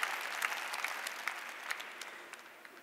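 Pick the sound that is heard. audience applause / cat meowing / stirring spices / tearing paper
audience applause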